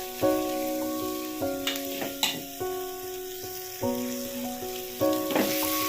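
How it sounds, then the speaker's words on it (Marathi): Vegetables and spices sizzling in hot oil for a shrimp curry, a steady crackling fry with occasional stirring scrapes, heard alongside a sustained tonal background melody, close and moderately loud. "तुम्ही आधी तेलावर भाजी टाकून नंतर मसाले टाकू शकता"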